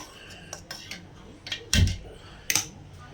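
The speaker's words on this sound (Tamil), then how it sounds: "அடுப்பத்தை வச்சு இந்த மாதிரி ஒரு வடசட்டி வச்சுக்கோங்க" A metal wok (kadai) set on a kitchen stove, with a few sharp clanks and knocks of metal, one heavier thud near the middle, separated by quiet gaps.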